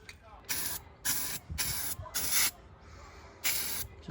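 A spray can lays an even coat onto denim micarta being prepared for laser engraving. Five hissing bursts sound close and loud, each about half a second long, separated by short pauses.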